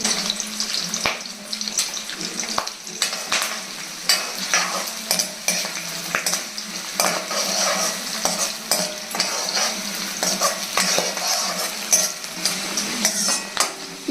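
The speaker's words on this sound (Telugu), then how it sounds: "ఒక ఉల్లిపాయ కొంచెం అన్ని ముక్కలు తీసుకుని ఇలా వేయాలండి జస్ట్ తాలింపు కోసం అనమాట" Onion, green chilies and curry leaves sizzle continuously while a spoon repeatedly scrapes and clinks against the pan, a busy stirring rhythm with no talking.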